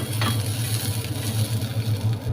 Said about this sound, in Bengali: এই যে দেখুন, এটার ভিতরে আমি মাছটি ভেজে লাইছি।